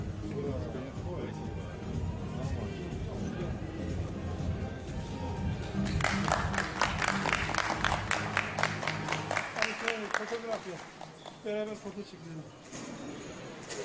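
A crowd claps and cheers for a boxing champion after the belt is presented, the applause swelling midway beneath a commentator's continuous talk.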